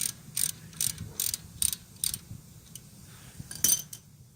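A 10mm ratchet works on the brake hose bracket bolt of a 2011 Ford Fusion, giving rapid rhythmic clicking bursts, around eight strokes, close and crisp with faint rustling between them.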